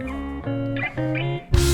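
Unprocessed stereo drum track from a Mimic Pro module, with sustained tonal layers ending in a sudden loud crash or hit, heard alone.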